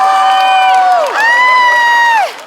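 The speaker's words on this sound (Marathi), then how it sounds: "एकदा जोरदार टाळो टाळ्या" A comedy show audience cheers and whoops with loud, rising shouts and some clapping, the crowd noise swelling twice before dropping away at the end.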